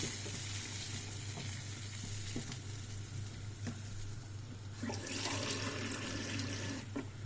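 Hot tap water runs steadily while bulgur pilaf is being made in a home kitchen. The flow is continuous and fairly loud, with a few small clinks and splashes and no talking.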